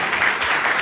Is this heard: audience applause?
yes